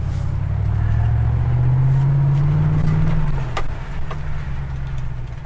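A pickup truck engine pulls up to speed, its low drone rising steadily in pitch for about three seconds before easing off, loud and close with no talk over it.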